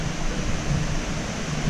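A small creek flows near a hiking-trail bridge, giving a steady broadband rush of water with no voices.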